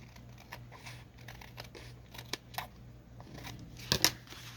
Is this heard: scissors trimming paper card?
yes